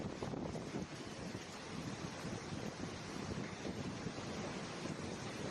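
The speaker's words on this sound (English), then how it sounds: "the wind picked up, and before they knew it, a powerful tornado was threatening one of the local farms" Strong tornado wind roars over open farmland in a dense, unbroken rush of gusting noise. The blast stays loud and close throughout, with no voices.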